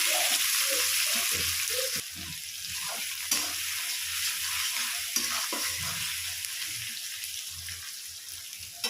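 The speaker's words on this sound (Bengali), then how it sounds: "একটু পেঁয়াজটা লাল লাল করে ভেজে রাখি" Onions sizzle steadily in a hot pan as they fry until browned, with occasional scraping and stirring sounds, close and moderately quiet.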